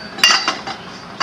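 Steel tube set into the jaws of a tube notcher, giving a few bright metallic clinks and taps spaced over about a second, close and clear with no talking.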